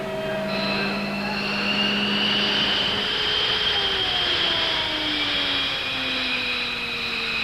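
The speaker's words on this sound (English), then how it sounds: "Captain Dave Slade revs the engines." Military jet engines revving during a timed aircraft refuelling and taxi event, a loud continuous roar with whining tones that slowly shift in pitch, sustained close up throughout.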